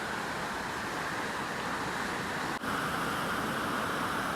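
River water rushing over rocks near Barden Bridge: a continuous, even broadband roar with no breaks, moderately loud and steady, with no voices.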